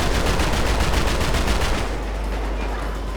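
Rapid gunfire in the modded video game GTA V, dense automatic bursts rattling loudly and continuously for about two seconds, then giving way to a steady low rumble.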